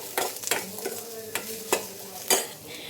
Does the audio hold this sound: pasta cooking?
yes